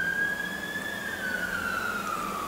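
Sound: fire engine siren going out on a call

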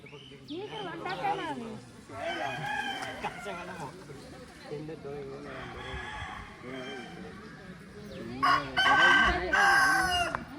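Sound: rooster

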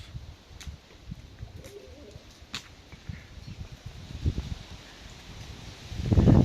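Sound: pigeons

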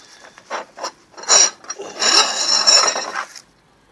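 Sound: rummaging through metal files

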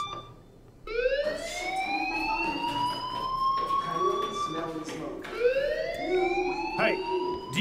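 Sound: fire alarm ringing in video game Life Is Strange

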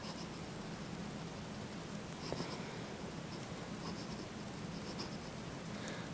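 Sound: Manuscript Dodec fountain pen writing on paper

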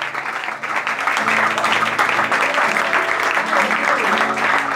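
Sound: congregation applauding the Lord

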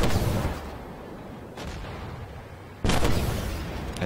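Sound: tank gun firing in the video game Armored Warfare

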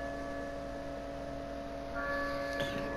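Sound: church bell ringing in video game Resident Evil 4 Separate Ways

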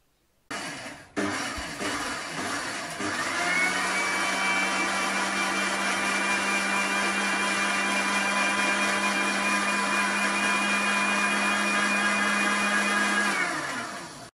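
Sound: grinder grinding curry leaves for onion chutney

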